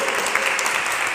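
A church congregation claps in sustained applause for the word of God during a sermon, a steady dense wash of many hands close and loud with no talk.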